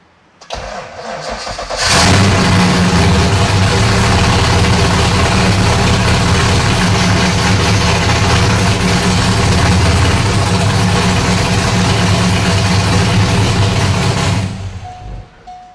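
A Corvette C5 V8 with open headers cranks briefly, catches and roars to life, then holds a loud, rough, rumbling idle for over ten seconds before the engine is shut off.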